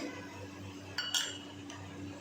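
A mixer jar handled while coconut, garlic and seeds go in for dry red vada pav chutney, giving two or three quick clinks of metal and glass over a low steady hum.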